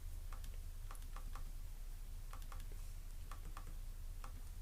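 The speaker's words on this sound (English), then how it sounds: "the clicking is much softer compared to the previous type" Touchpad on a Lenovo ThinkPad E450 laptop clicks softly in a rapid series of light ticks, some doubled, spread across a few seconds over a quiet background, with no talking.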